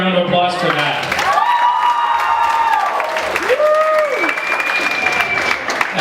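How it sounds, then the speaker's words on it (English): Applause and cheering from a stand-up comedy club audience, with loud steady clapping and several drawn-out whoops and shouts rising above it for about six seconds. "How about another round of applause for that?"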